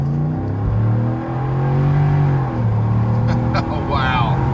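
A custom-tuned 2019-or-later Ram 1500 with the 5.7L Hemi V8 accelerates from inside the cab, its engine drone climbing in pitch and dropping back at each firm, quick gear shift.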